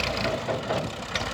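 A tractor engine idles with a steady, low rumbling drone that holds even throughout, close by and alone, with no voices over it.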